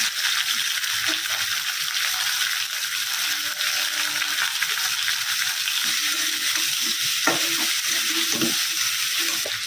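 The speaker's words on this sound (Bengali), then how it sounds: "আদা রসুনের কাঁচা গন্ধটা চলে গেলেই দিয়ে দেব পেঁয়াজ" Ginger-garlic paste and onions fry in oil with a continuous, fairly loud sizzle, overlaid by soft intermittent scraping and clinking from stirring.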